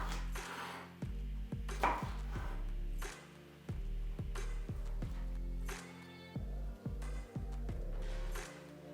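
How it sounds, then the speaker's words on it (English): Knife chopping cauliflower into florets on a chopping board for a cauliflower and potato puff pastry filling: a steady series of close, sharp thuds, some in quick pairs, with brief pauses between cuts. "We're going to cut it up into florets"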